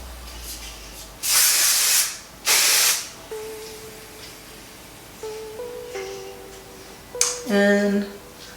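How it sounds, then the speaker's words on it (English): Dry shampoo aerosol sprayed into short hair during styling, two distinct loud hissing bursts of about a second each, followed by fainter handling sounds and soft tones. "I use a little bit of dry shampoo, and so I'll just pick up sections and spray it in."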